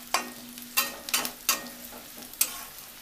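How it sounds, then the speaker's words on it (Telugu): Onion and curry leaves frying in hot oil for pepper chicken: a steady sizzle punctuated by about six sharp stirring scrapes and clacks of a spoon in the pan, close and clear. "ఈ ఉల్లిపాయ ఆయిల్లో ఇలా ఫ్రై అయింది కదా, ఇప్పుడు కరివేపాకు వేసుకోండి"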